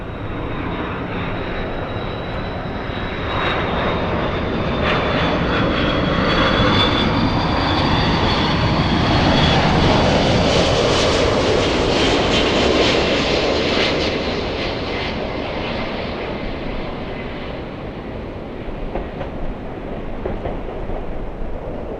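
Airbus A380 jet taking off from Los Angeles airport, a loud sustained engine roar with a high whine that swells to a peak mid-clip and then slowly fades as the aircraft climbs away.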